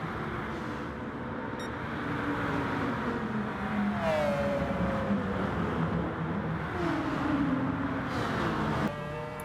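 Racing car engine in Gran Turismo Sport on the Sardegna circuit during a manufacturer series race, a steady loud roar with rising and falling revs as gears change, running continuously alone.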